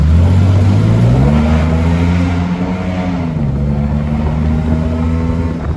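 A scrap-built sports car's engine revs and idles close up as it is parked, a steady loud drone with pitch rising early on, then easing and holding through the end.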